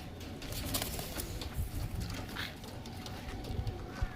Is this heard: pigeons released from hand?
yes